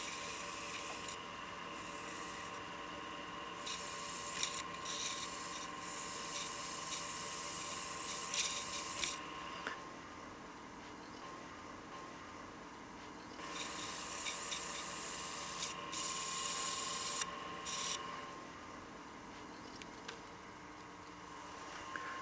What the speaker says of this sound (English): The other nice thing about this paper is if you are wet sanding